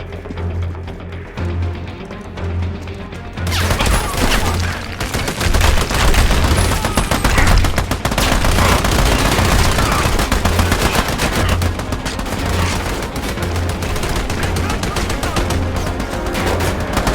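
Sustained video-game gunfire in Army of Two, dense bursts of machine-gun and rifle shots rattling continuously and loudly, with voices briefly heard amid the firing.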